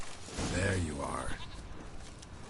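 A goat bleats in The Witcher video game with one wavering, drawn-out cry near the start of the clip, followed by quieter game ambience.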